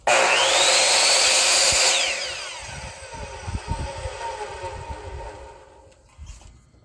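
A power saw cuts wood pieces for a segmented woodturning, its loud whining motor spinning at full pitch for about two seconds, then winding down in a falling tone while clunks and handling noises follow.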